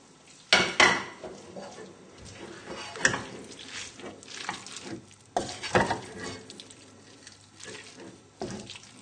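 Pasta and poached salmon being gently folded together in a pan, with soft scraping and clinks of a utensil against metal and wet stirring sounds, close and intermittent, no speech.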